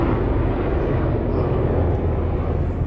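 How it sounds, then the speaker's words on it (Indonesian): Several helicopters overhead make a loud, continuous low engine drone that holds steady throughout, with no talking. "Ini terlalu banyak helikopter ini."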